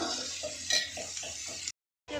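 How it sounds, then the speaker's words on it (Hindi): Vegetables, spices and dry fruits stir-frying in a pan, with a sizzling hiss and rhythmic scraping of a spoon against the pan, close by, cutting off abruptly near the end. "तो सबको अच्छी तरह से भून लूँगी, क्रंची होने तक इनको भूनना है हमको भी"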